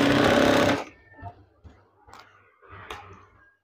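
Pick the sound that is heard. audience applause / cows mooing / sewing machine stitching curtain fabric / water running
sewing machine stitching curtain fabric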